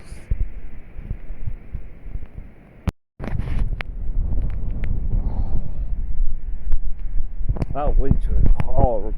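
Strong, gusty wind during April snow showers roars across the microphone as a loud, constant rumble with brief buffeting bursts, while a voice speaks under it.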